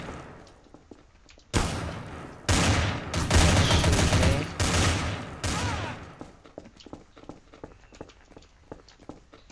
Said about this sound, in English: Oh, someone shot his head.